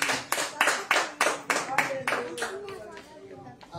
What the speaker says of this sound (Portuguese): as palmas mais uma vez ao Rei da Glória